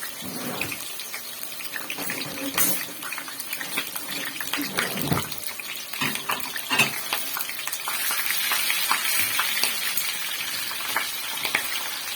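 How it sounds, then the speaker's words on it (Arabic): Meat sautéing with freshly chopped onion in a home kitchen pan gives a steady, close sizzle with bursts of stirring and scraping running throughout. "بعد كده اشوح اللحمه معاكم الاول"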